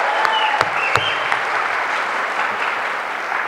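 An audience claps steadily at the Queer Youth Leadership Awards 2011 for an absent honoree, a sustained, fairly loud round of applause with a few sharper claps standing out near the start.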